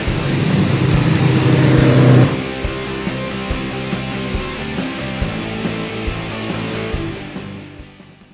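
A 1966 VW Beetle engine runs and revs loudly at first, then settles into a steady idle with rhythmic pulsing.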